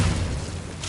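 A spell strikes with a short, heavy whoosh-boom in the Hogwarts Legacy video game: a dense, sustained burst that holds steady for under a second, with no talking.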